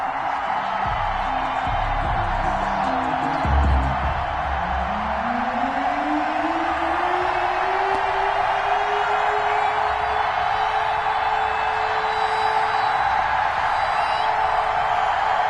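A stadium crowd cheers for the home team in the Madden 21 football video game, a steady broad roar under the broadcast, with a rising whoosh-like tone sweeping up through the middle.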